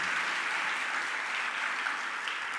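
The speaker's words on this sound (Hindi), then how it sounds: "मान लो, बजा लो अपने लिए ताली, जम के तो बजाओ" An audience claps for itself at a Jain religious discourse, steady, dense applause from many hands that holds for the whole stretch.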